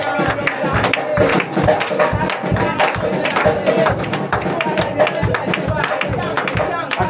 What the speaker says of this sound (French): Applaudis, acclame-le.